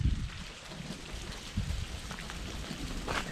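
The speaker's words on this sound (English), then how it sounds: "That's what happens when you get a lot of rain all at once." Heavy rain pouring down during a winter storm in Arizona, a dense steady patter on surfaces with low rumbling underneath, continuous and close.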